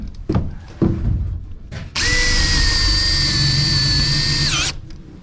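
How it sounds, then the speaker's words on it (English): A power drill drives a 2-inch self-tapping screw through material into the metal tube frame of a tool trailer, giving a loud, close, sustained whine for about three seconds after a few short knocks and taps. "So because this is a metal tube frame on here, we are just using some self-tapping screws."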